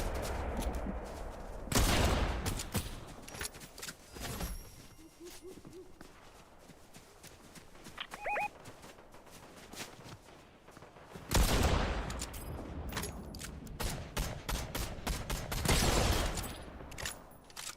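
Bursts of gunfire from the Fortnite video game come in scattered volleys, some dense and rapid, others single cracks, with quieter gaps between them.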